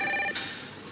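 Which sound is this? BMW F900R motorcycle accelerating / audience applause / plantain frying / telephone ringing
telephone ringing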